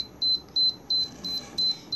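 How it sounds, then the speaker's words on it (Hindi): A digital satellite finder meter's buzzer gives a series of short, clear electronic beeps in a steady, regular rhythm, about six in two seconds, close and alone with no talk. "इसमें एक बज़र बटन है जिससे पुश करके आप बज़र ऑन एंड ऑफ कर सकते हैं।"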